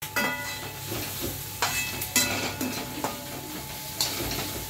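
Red masala for a paneer curry roasts in a wok, making a continuous close sizzle broken by periodic scraping, clattering stirs of a spoon against the metal.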